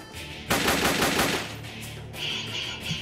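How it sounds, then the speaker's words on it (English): An AK-48 assault rifle in a video game fires one loud, rapid automatic burst lasting about a second, followed by fading game ambience. "this is an AK-48, not an AK-47."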